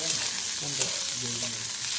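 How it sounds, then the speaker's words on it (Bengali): Onions frying in mustard oil in a wok give off a steady close sizzle, a dense crackling hiss that runs through the whole short stretch with a few brighter pops. "পেঁয়াজটাকে বন্ধুরা আমি এভাবে ভেজে নিচ্ছি"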